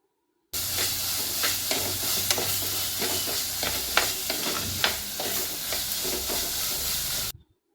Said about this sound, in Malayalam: തക്കാളിയും ഉള്ളിയും എല്ലാം കൂടെ നല്ല രീതിയിൽ തന്നെ വഴറ്റിയെടുക്കണം.